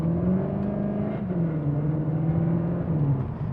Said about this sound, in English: So let's go into launch control.